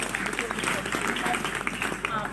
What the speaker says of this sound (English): Keep the applause going.